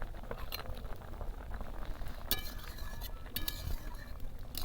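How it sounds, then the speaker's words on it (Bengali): Curry boiling in a pan with fried prawns to come, a close, busy bubbling patter with occasional light clinks of utensils and no talking. "তরকারিটা ফুটছে।"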